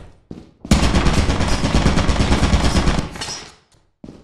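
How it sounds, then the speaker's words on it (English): A turret in Lethal Company fires a sustained rapid burst of automatic gunfire, loud and close, lasting about three seconds and then cutting off, with only brief sounds before and after. "Oh, that's a turret."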